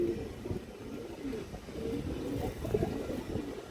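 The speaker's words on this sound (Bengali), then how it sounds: "চড়া চোখের কবুতর দর্শক, মাদি কবুতর এটা" A female pigeon coos softly in a farm loft, low murmuring calls repeating over faint background noise.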